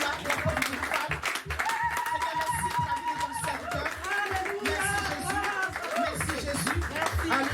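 A church congregation claps and cheers in praise during a worship service, with steady dense applause, raised voices and a sung tone running through it all.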